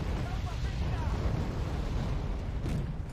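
Bomb explosions in the wargame Red Dragon, a sustained deep rumbling roar of blasts that fills the whole moment, loud and continuous with no clear separate hits.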